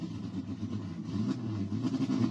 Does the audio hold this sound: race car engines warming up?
yes